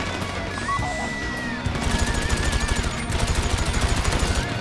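Automatic gunfire rattles in the video game GTA V, distant at first with a faint whine, then a loud, rapid, evenly spaced volley of close shots that keeps going, with no talking.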